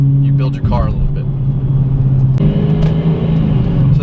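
A Procharged 5.7 Hemi car drones loudly from close by with a steady low engine tone that lifts slightly partway through, and a voice is briefly heard over it.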